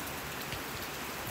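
Heavy rain pours down in a dense, steady hiss of drops hitting surfaces, loud and unbroken with no talking.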